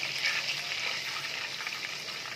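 Cumin seeds and whole black peppercorns fry in hot oil with a steady, close, bright sizzle and a faint crackle. No one speaks.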